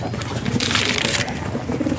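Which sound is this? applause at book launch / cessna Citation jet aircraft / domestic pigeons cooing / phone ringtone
domestic pigeons cooing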